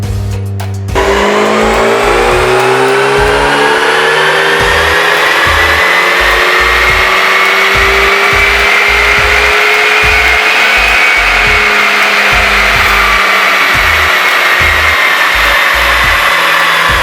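A Mazda RX-7 FC3 rotary engine with a Mishimoto intercooler and charge pipe roars on a dyno, climbing steadily in a long, loud, sustained pull from a sharp start, its buzzing note rising through the run.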